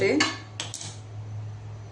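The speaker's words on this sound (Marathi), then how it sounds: "इथे मी पातेलं घेतलेलं आहे।" A metal cooking pot clanks a few times up close, with three or four sharp knocks in quick succession, then settles into quiet.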